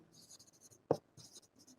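Pen scratching on paper while a maths solution on matrices is written out, with soft short strokes in quick bursts, one sharper tap midway, faint and close, with no talking.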